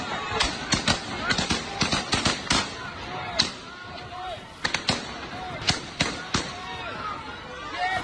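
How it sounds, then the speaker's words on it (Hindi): Warning shots fired into the air by Russian soldiers facing advancing Ukrainian civilians: sharp, distant cracks in irregular clusters over a restless crowd, with people shouting and talking throughout. "सुनिए जरा, फायर सुनिए, हवाई फायर करना पड़ा।"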